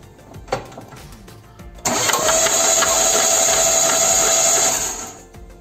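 Starter motor cranking a Renault car engine with all spark plugs removed and the ignition coil disconnected: a sudden, steady loud whirring drone that starts after a brief click and runs about three seconds before winding down, no voices.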